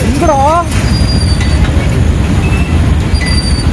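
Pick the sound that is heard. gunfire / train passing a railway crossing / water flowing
train passing a railway crossing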